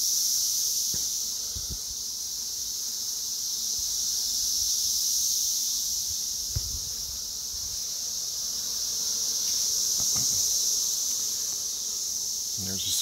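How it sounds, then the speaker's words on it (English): Cicada at a garden beehive in June, a steady high-pitched shrill buzz droning continuously and loudly over faint hive bee hum, with a few soft knocks and no talk. "there's a cicada just landed on their hive"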